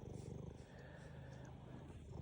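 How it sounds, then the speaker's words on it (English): A pet cat purring loudly and steadily up close, a continuous low rumbling drone with no pauses. "They hear how loud you purr."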